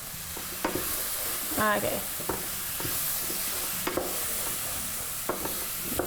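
Stuffed-pepper filling for a taco-style dish sizzles in a frying pan while a utensil stirs it. Steady frying hiss sits under intermittent close scrapes and clacks against the pan, and a voice briefly speaks.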